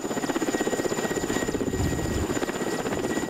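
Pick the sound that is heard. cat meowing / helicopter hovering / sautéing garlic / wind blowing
helicopter hovering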